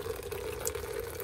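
Garden hose water sprayed onto a roof, running down into a cedar rain bench used for rainwater harvesting; a steady, faint, continuous watery rush with no voices.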